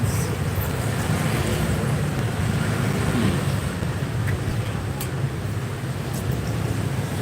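Road traffic in Da Nang, Vietnam forms a continuous, dense rumble of passing engines, heard from a moderate distance with no talk over it.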